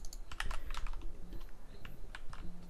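Quick bursts of keystrokes on a computer keyboard while searching for a Bluetooth download on Windows, irregular clicks close and clear over a quiet room with no talk.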